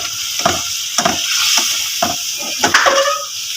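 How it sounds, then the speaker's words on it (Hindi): Fenugreek leaves frying with spices in a pan, a spatula stirring and scraping in repeated strokes over a steady close sizzle, with no voices. "मेथी की भी मसालों के साथ भून लिया"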